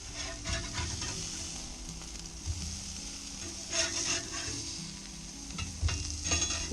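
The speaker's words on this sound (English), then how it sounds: "there are some great grill marks and these burger patties are really coming along" Chicken marinara burger patties with breadcrumb coating sizzle steadily on a Weber Q grill, a close, even frying hiss with a few brief scrapes and stirring noises over the top.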